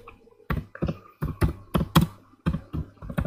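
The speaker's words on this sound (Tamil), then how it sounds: "நான் வந்து எங்களுடைய ஸ்கூல் நேமை கேபிட்டல் லெட்டரில் டைப் பண்ணுறேன்" Close, loud keystrokes on a computer keyboard come in a steady, evenly spaced run while a school name is typed in capitals, each press a crisp separate click.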